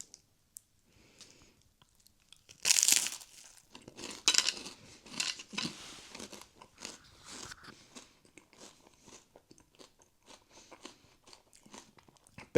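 A rice cake dipped in a creamy protein dessert is bitten and chewed close to the mic, with a loud crunch first and then a run of smaller crunches and chewing clicks in quiet surroundings.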